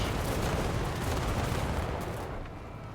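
A steady, dense rumble of cannon battery fire in a real-time strategy game, continuous booming blasts that stay loud and fade slightly toward the end.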